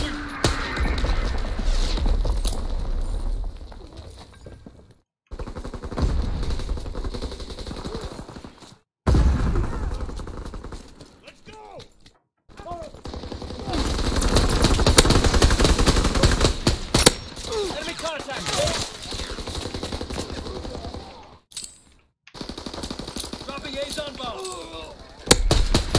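Sustained machine-gun fire and booming mortar rounds in the WW2 shooter Call of Duty WW2, loud and dense with brief silent gaps between sections, and voices calling out beneath the battle.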